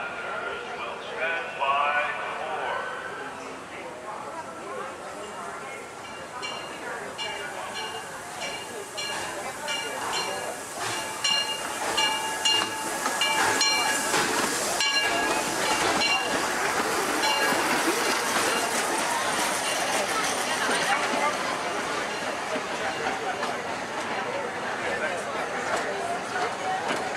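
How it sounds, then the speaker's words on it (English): The Disneyland Railroad train pulls into its station with a steady rumbling roar, rail clatter and hissing steam. A crowd talks throughout and a public-address announcement is heard over it. "Disneyland Limited, now arriving from a trip around Walt Disney's Magic Kingdom."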